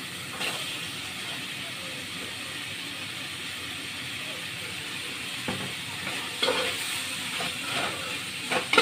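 Potato goes into a sizzling egg curry mixture in a pan, a steady frying hiss with a few clattering stirs and a louder splash of sizzle near the end, no talk.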